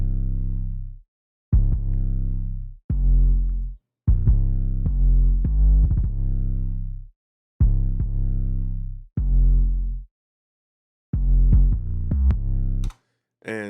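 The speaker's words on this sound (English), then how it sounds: "So this one is going to sound distorted" Short bursts of a heavily distorted, buzzy musical sample repeat in choppy phrases with brief gaps between them, ending in a clipped flourish.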